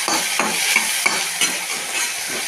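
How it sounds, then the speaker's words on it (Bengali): A utensil stirs ginger in a hot frying pan over a steady sizzle. The scraping strokes come at a regular rhythm, close by, with no talking. "এবার নাড়াচাড়া।"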